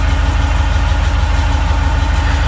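A 1940 Ford COE rollback truck engine idles close by with a steady, rhythmic low chug and loud, even rumble throughout, running hot from poor coolant flow, no voices.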